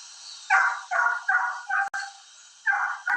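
A dog barks in a recording played back in a courtroom trial, five muffled, slightly distant barks in an uneven rhythm over a steady hiss, with a sharp click midway.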